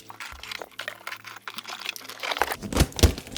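Packing tape being sliced and pulled on cardboard boxes holding LiFePO4 batteries, with scraping, crinkling and a few louder tearing rustles near the end.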